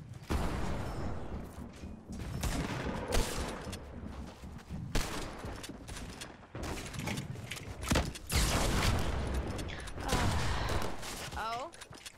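Sustained minigun fire in a first-person shooter, long dense rattling bursts broken by short pauses, loud throughout with other combat noise and a voice talking over parts of it.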